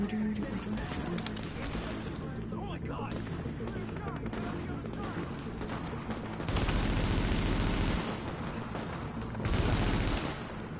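Gunfire from a Tom Clancy's The Division team deathmatch, with dense, sustained bursts of shooting that swell louder in two stretches near the end and keep up steadily throughout, with no pause.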